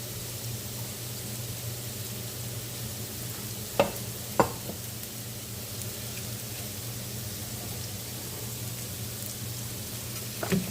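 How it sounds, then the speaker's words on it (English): Potatoes frying in a pan for a Saturday breakfast give off a steady, even sizzle for the whole stretch, broken by two sharp clicks near the middle and a small knock at the end, with no voices. "While the potatoes are cooking,"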